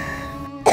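An elderly woman gives one short cough close by, preceded by a sustained tone.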